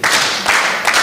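Delegates at a cooperative society meeting perform the Nyayo clap, a few loud unified claps in a rhythmic pattern with short gaps between them.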